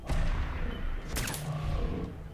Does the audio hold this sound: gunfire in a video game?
yes